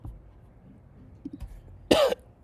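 A man gives a single sharp, harsh cough near the end, loud and close in an otherwise quiet room, after a few faint small sounds.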